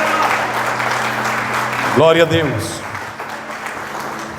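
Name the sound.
church congregation clapping hands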